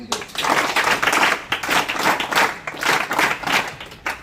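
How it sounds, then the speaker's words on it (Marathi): Loud applause for a teacher at a school Dindi procession festival for Ashadhi Ekadashi, a crowd clapping steadily in uneven swells for several seconds with little speech. "जाधव सरांसाठी जोरदार टाळ्या"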